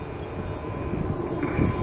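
A large airliner passes overhead near Montreal, its engine roar a steady low rumble that swells louder toward the end, heard alone without talk.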